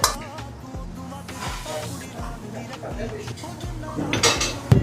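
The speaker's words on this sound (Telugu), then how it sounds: "ప్లేటింగ్ చేసుకుంటున్నాం ఇప్పుడు" Plates and utensils clink and clatter up close while gongura rice is served, with scattered sharp metallic taps and a brighter burst of clinking near the end.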